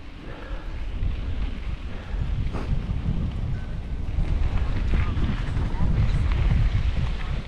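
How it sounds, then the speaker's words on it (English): Cold wind blows hard and steadily into the microphone during a ride along a rail line, a loud low rumble and buffeting that builds toward the end, with someone talking under it. "Oh, that wind is cold."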